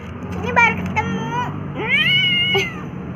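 A kitten meows repeatedly from under a parked car, with several distinct rising cries spread through the moment, close and fairly loud, mixed with people talking nearby.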